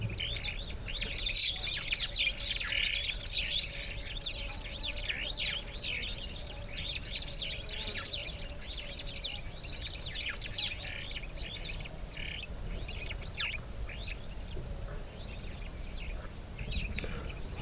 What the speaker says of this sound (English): I see we've also got quite a few superb starlings fluttering about.